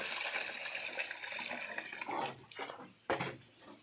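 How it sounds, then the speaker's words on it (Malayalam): Plain water is poured into small latex cups while making rubber sheets, giving soft splashing and trickling pours with a couple of sharper splashes near the end, close and fairly quiet. "ഇപ്പൊ ഒഴിക്കുന്നത് പച്ചവെള്ളമാണ്"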